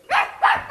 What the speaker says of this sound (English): Now where's that dog of mine?